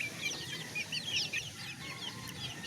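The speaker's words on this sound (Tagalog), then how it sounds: "Talagang tingnan nyo po ang iba kong sisiw." Hens and chicks cluck and peep softly, the chicks chirping in rapid high bursts over a low background murmur, close by for a few seconds.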